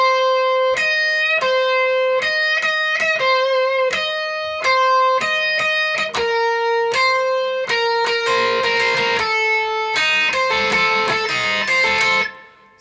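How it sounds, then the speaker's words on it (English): Lead guitar solo from a song with distorted electric tone, clear picked notes in a quick uneven rhythm that turn into a denser, busier flurry in the second half, loud and close with no talking. "and then we get a little guitar solo, which sounds like this"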